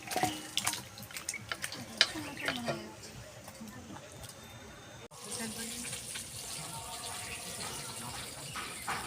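Liquid being poured into a pan while home cooking fried rice and steamed chicken curry, a close splashing and sizzling pour running steadily, with people talking over it.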